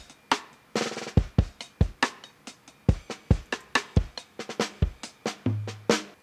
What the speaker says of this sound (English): also I added this snare drum rattle